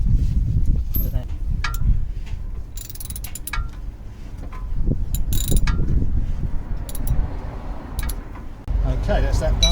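Ratchet clicking while tightening the control arm bolts on a Mercedes Vito W639 van, with a Torx T40 bit holding the bolt, rapid metallic ratcheting over a low rumble, close, with someone talking at times.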